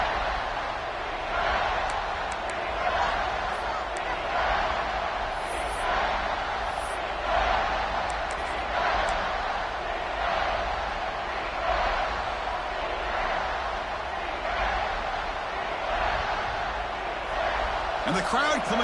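A football crowd grows louder as the home defense holds near its own goal line. The broad stadium noise swells in rhythmic surges under steady play-by-play commentary.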